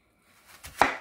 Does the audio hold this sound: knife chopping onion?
yes